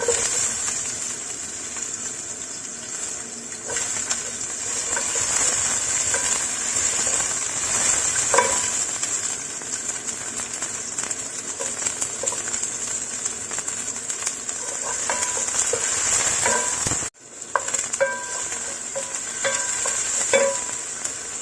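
Onion being stir-fried for vegetable spring rolls, a loud continuous sizzle with scraping stir strokes, close and steady, briefly dipping before the frying resumes, no talking.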